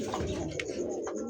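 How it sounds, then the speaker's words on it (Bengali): Pigeon cooing close by, soft throaty calls over a low steady background hum, brief and fairly quiet. "যে কবুতর রে ভাই কি ডাক দিতেছে রে"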